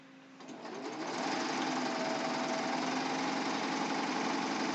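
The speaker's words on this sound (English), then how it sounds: "I'm gonna stitch to make sure my stitching is okay." A serger sewing machine stitching fabric for a ruffled pillowcase starts up and settles into a steady, loud, fast mechanical whir that runs continuously and close by, with no talking.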